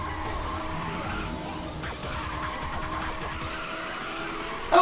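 A racing car drifts in Ridge Racer 2, its engine roaring steadily while the tires screech through the slide, loud and continuous with game music underneath and no talk.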